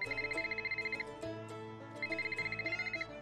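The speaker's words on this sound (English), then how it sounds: "Oh, phone call." A telephone rings in a Nancy Drew mystery game, two bursts of bright trilling electronic rings separated by a short pause, loud and close with no talking over it.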